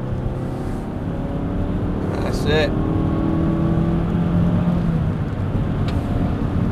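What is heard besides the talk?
Mazda3 accelerating at full power in third gear at Silverstone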